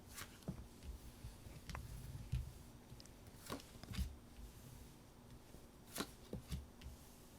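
Tarot cards shuffled repeatedly in soft, irregular riffles and slaps, close and fairly quiet, with no one talking.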